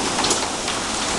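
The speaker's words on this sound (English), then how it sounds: "My god, look at all that hail." A heavy hail storm in Virginia Beach hammers down as a dense, loud, continuous clatter of hailstones striking surfaces, steady throughout with no voices.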